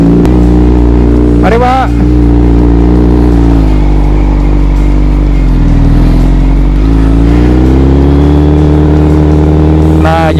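Honda CBR 1000 SP superbike engine idling with a steady deep rumble and a few throttle blips, loud and close throughout, with someone talking over it.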